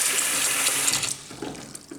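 Water gushes steadily from a tap into a hotel suite sink in Rome, strong and close at first, then easing to a thinner, uneven trickle with soft splashes.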